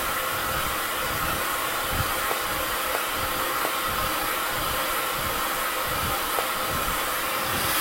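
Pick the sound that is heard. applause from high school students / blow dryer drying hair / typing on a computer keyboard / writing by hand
blow dryer drying hair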